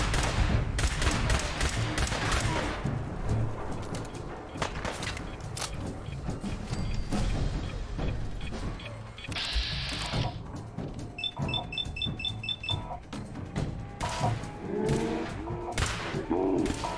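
Rapid gunfire in Fallout 4, dense bursts of shots crowding the whole stretch with a few short pauses, loud and close, mixed with other game effects and no clear talk.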